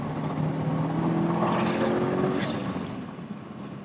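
A Subaru Impreza STI hatch, JDM spec with a 2.1 stroker engine making 420 bhp, accelerating hard with a steady, loud engine and turbo roar heard from inside the cabin, no talk over it.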